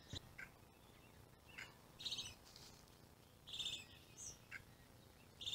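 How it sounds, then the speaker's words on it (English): Birds chirp and call at a lakeside park on Osoyoos Lake on a summer morning, with several short, fairly faint bursts of song scattered over quiet, distant ambience and no talking. "I can see quite a few birds. You can probably hear them."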